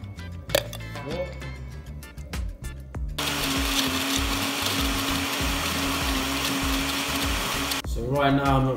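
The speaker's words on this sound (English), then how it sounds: "so I'm just going to pour some water in while it's blending" A blender whirs loudly and steadily, blending a banana and peanut smoothie with milk and ice, preceded by a few clinks and clatter as ingredients go in, with a voice speaking near the end.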